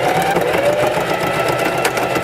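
A sewing machine runs steadily at close range, stitching over a fabric strap on a pet-fashion hanger bow organizer, one continuous mechanical whir with no pauses.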